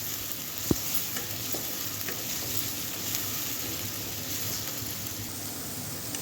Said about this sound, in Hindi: लहसुन अदरक के पेस्ट को भी जो 1 टेबल स्पून था उसको भी अच्छी तरह से हम भून लेंगे